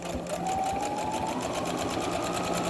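A sewing machine runs steadily at high speed, stitching ruffles onto a shirt with a fast, even needle rhythm and a faint motor whine, close and constant throughout.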